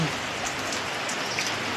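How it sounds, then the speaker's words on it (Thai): Steady rainfall with dense, even patter of drops on surfaces, close and continuous, no voices heard over it. "นี่แหละค่ะคือบรรยากาศนะคะ บรรยากาศฝนตก"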